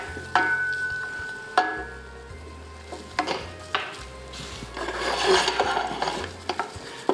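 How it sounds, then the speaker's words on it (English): Flour is whisked into melted butter in a pan to make a roux, giving repeated scraping and stirring strokes with soft sizzling, close and clear, with no voices. "So once your butter gets melted, we're gonna go in with our flour. Just gonna give that a mix."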